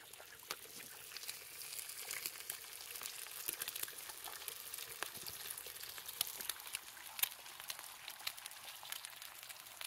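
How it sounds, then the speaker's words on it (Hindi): An egg fries on a hot stone outdoors, giving a continuous crackling sizzle with many sharp pops and spits, fairly close and steady for about ten seconds, with no voices. "सॉल्ट डालने के बाद हम अंडा डाल रहा है।"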